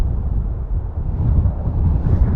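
Steady low wind rumble buffets the microphone outdoors in the Lake District, a dull roaring gust with no voices.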